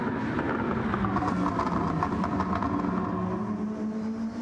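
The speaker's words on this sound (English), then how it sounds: "I love the anti-lag sound in these cars, the Group 2 cars." Group 2 race cars in a racing video game, engines droning steadily with rapid anti-lag crackles and pops, a continuous mid-level roar with no pauses.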